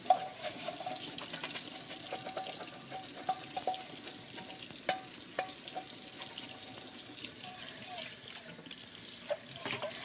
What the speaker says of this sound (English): Washing a dish.